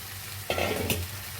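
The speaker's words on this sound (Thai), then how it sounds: "น้ำเดือดแล้วนะคะลงผักบุ้งกันเลยค่ะ" A brief splash and churn as water spinach drops into a pot of boiling water, over a steady low bubbling hum.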